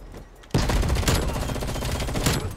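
FFAR rifle in Cold War Warzone firing a sustained automatic burst, loud and close, rapid rhythmic shots after a short quiet lead-in, with no talking.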